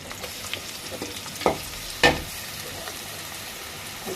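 Grated onion goes into hot oil with bay leaves, cinnamon and cardamom, giving a steady close sizzle and frying hiss with two sharper spattering bursts partway through.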